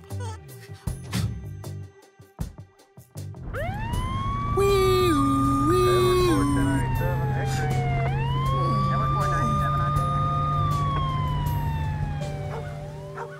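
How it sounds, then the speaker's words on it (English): A police siren wails loudly and close, rising and falling in long sweeps over a low engine rumble, after a few seconds of muffled noise. "climbed into the back of the police car"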